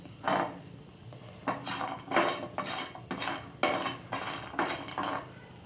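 Coconut and cinnamon roast in a pan while a utensil stirs and scrapes in repeated bursts, about eight rhythmic strokes close up, with no talking.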